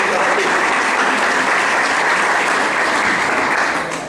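Audience at a morning client event near a cathedral giving a big round of applause, dense, loud and sustained clapping that tapers slightly at the end.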